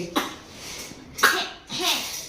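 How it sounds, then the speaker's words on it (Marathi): Three short, rough coughs spaced about half a second apart, close and fairly loud, from a baby, with no talk. "खोकला आला ग."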